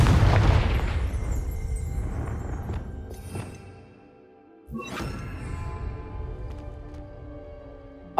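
A Confringo blasting spell exploding in Hogwarts Legacy, a loud booming blast that rumbles and decays over a few seconds, then a second sharp burst with a whooshing, crackling tail and scattered pops.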